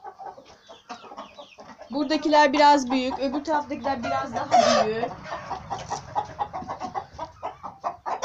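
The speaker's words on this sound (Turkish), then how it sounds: "Bağırıyor tavuklar" Chickens with grown chicks cluck and squawk nearby at a village farm, agitated, while a person talks over them in Turkish.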